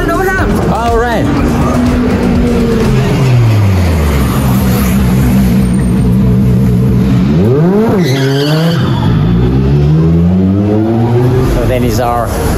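A Hyundai Elantra race car runs at the Nurburgring 24h qualifiers, its engine loud and steady with a falling pitch sweep as it passes, then revving up again, under background radio chatter.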